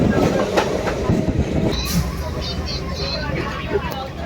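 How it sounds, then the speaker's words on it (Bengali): A local commuter train running out of Sealdah towards Namkhana rumbles loudly from inside the carriage, a continuous heavy roar with faint clacking and passenger chatter beneath. "9:16 ছাড়ার কথা, কিন্তু ছেড়েছে 9:17, অর্থাৎ 1 মিনিট লেটে ছাড়লো শিয়ালদা থেকে আমাদের ট্রেন।"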